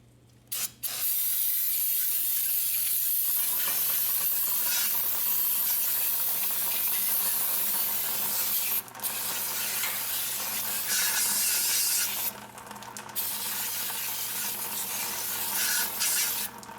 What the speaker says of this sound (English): now I'm gonna grab some brake clean so we can clean up the park brake shoes